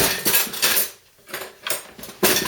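A fork clinks and scrapes against a bowl while mixing wet boilie mix, in bursts of quick rattling strokes separated by a short pause, close and fairly loud.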